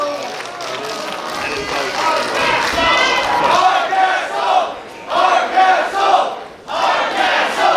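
A women's wrestling crowd cheers and chants in loud rhythmic surges that swell and drop in bursts, with voices shouting together throughout.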